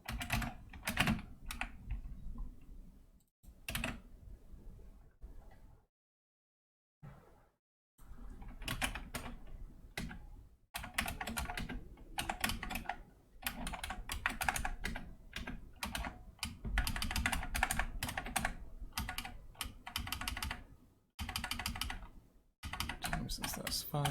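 Rapid computer keyboard typing during a game-development session for Skin Deep, coming in close bursts of keystrokes with a few brief silent pauses, and a voice occasionally speaking.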